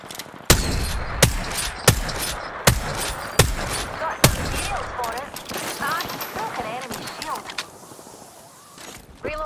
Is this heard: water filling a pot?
no